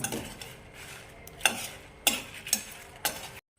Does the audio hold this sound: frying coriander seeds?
yes